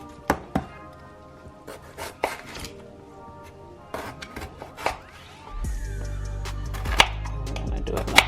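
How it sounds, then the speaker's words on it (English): A knife cuts down the middle of potatoes on a board for a seafood boil, giving several sharp, close chops and taps. A low steady hum enters partway through. "So I'm gonna slice it down the middle"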